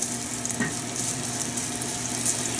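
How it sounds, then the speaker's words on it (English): Julienned ginger fries in hot oil over high heat, a steady close hiss and crackle that holds at an even level throughout. "Julienne, that I'm going to put into this oil and cook it over high till it's burned"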